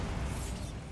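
A Bombarda explosive spell goes off in the Hogwarts Legacy video game, a single dense, booming blast that fills the whole short moment with rumbling, crackling noise.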